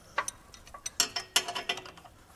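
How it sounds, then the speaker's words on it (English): Quick ratcheting clicks come from a spanner tightening nuts on the driveshaft of a Triumph TR6 during a recommissioning job, a close, irregular series of sharp metallic ticks with no talking. "we've nipped up all the nuts, we've just got to tighten them up"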